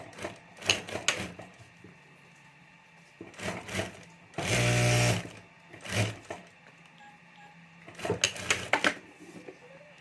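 A sewing machine stitches the zip and lining of a pencil pouch, with clusters of sharp clicks and handling noises around one steady burst of machine running at mid-clip.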